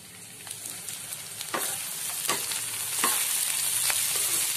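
Onions frying in a pan for a mutton and potato curry, a steady close sizzle with occasional scraping stirs, growing slightly louder toward the end, no talking.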